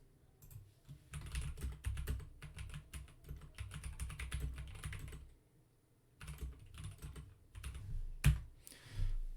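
Keys clatter on an Apple II keyboard in quick, busy bursts with brief pauses between them, close and fairly quiet, with a sharper single tap near the end and no talking.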